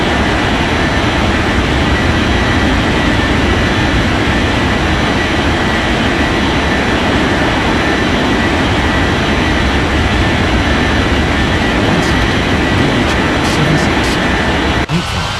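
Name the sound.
aircraft taking off, from an air traffic control video game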